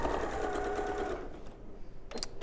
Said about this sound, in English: So you sew them into pairs, and then you sew the pairs together.